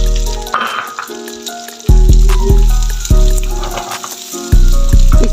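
Chopped garlic and onion frying in hot cooking oil while making restaurant-style chicken Manchurian: a loud, steady sizzle broken by recurring bursts of crackle, heard alone without talk.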